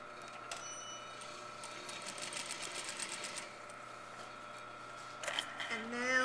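A sewing machine stitches a cuff in short, rapid bursts of needle chatter, faint and close, with quiet pauses between runs and a brief whir near the end.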